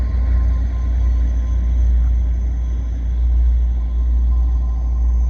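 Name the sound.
EXO commuter train passing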